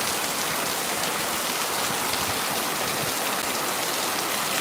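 Heavy rain pours down in a steady, unbroken hiss, loud and even throughout, with no voices.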